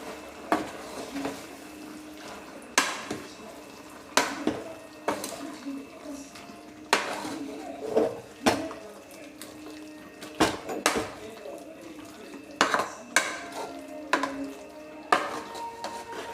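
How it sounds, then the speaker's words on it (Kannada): Masala for a sambar is stirred in a pan over low heat, a spoon repeatedly scraping and clinking against the metal in an irregular rhythm over a soft background hiss. "ಮಸಾಲೆ ಹಾಕಿ ಉರಿನ ಸ್ವಲ್ಪ ಸಿಮ್ಮಲ್ಲಿಟ್ಟು ಮಿಕ್ಸ್ ಮಾಡ್ಕೊಳ್ಳೋಣ"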